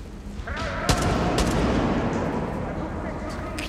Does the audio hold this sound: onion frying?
no